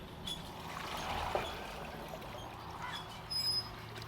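Buttermilk and gram flour batter poured into a wok for kadhi, a soft, faint, continuous trickle with no voices.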